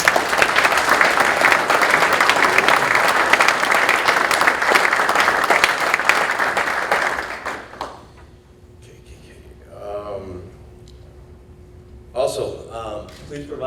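An audience at a retirement ceremony applauds in a loud, dense burst of clapping that runs for about seven seconds and then stops abruptly, followed by a quiet room with a faint hum and brief bits of speech.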